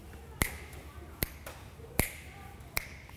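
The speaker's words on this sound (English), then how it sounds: "there are four clicks, so we might just join in with that part first" Four crisp finger snaps in a body percussion piece, evenly spaced and close, each a sharp isolated click against a quiet background.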